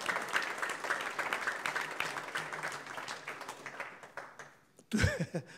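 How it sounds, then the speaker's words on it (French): An audience at an economics conference claps in a warm round of applause that gradually thins and fades out, followed by a brief sound at the end. "Si vous pouvez l'applaudir."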